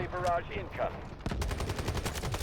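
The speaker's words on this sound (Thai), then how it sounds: "ผมเรียกอาทิลอรี่ลงแล้วนะ อาทิตย์ลี่ลงแล้ว" Artillery strike landing in the Delta Force video game, a burst of rapid blasts and gunfire-like impacts after a brief stretch of softer sounds, loud and close.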